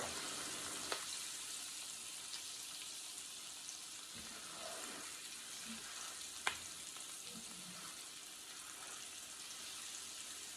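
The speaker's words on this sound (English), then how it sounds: "you're going to want to move them and stir them around the pan so that they could all cook" Onions sautéing in a frying pan, a steady close sizzle that carries on for several seconds while a utensil stirs and scrapes now and then, with a couple of sharp clicks.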